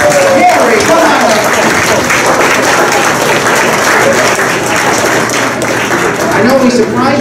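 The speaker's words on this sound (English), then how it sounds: "he's going to get a nice big round of applause." An audience gives a big round of applause at a stage show, dense continuous clapping filling the space, loud and close throughout with some crowd noise mixed in.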